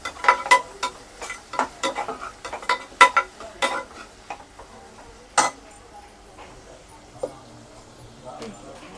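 Chicken sautéing with onion and tomato in a pan for a chicken kuruma, with a faint sizzle under repeated clinks and scrapes of a spoon stirring against the pan, and a voice talking.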